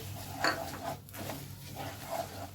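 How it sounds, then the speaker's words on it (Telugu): Spoon stirring sesame seeds into a sesame barfi mixture in a metal pan, a few quiet scraping clinks spaced irregularly against a low background hum, no voices. "ఇప్పుడు నువ్వులు ఏవైతే ఉన్నాయో వేసుకొని కొంచెం కలుపుకోవాలి"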